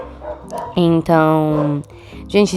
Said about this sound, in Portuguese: desculpa pelo cachorro se vocês conseguirem ouvir